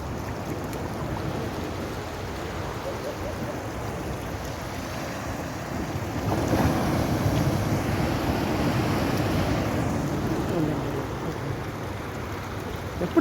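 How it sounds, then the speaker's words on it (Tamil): Plenty of water rushes through the Kurumpanai canal near the sea in Kanyakumari, a dense, continuous roar that swells slightly midway, with wind buffeting the microphone and no talking. "குறும்பன வாய்க்காலில் தண்ணி நிறைய போகுது."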